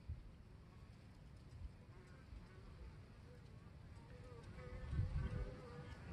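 Honey bees buzz around a hive entrance as they fly in carrying pollen, a dense, continuous swarm drone with individual bees passing close, swelling louder near the end.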